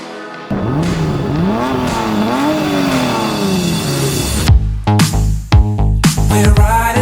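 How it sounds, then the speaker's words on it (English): A sports car with a freshly swapped transmission revs hard as it pulls away, the engine note climbing and falling through several rises, then sharp gear-change bursts and chopped revving near the end, loud and close. "Yanni, you ready to go rip your car?"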